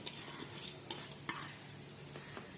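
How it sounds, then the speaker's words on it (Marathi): Green pea cutlet mixture with lemon juice gets stirred together in a bowl, a soft continuous mushy churning with a few faint taps of the spoon against the bowl, close and quiet, no voices. "आता ही हे मी सर्व एकत्र करून घेते हे पूर्ण एकजीव होईपर्यंत"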